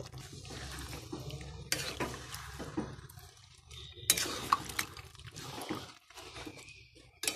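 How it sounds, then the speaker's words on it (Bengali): Chicken kasha simmers in a pan as a small splash of water goes in, with close stirring, scraping and soft sizzling clatter that swell in bursts over a steady low bubbling bed. "এবার আমি অল্প করে সামান্য, খুব সামান্য জল দেবো, বেশি দেবো না, জাস্ট অল্প"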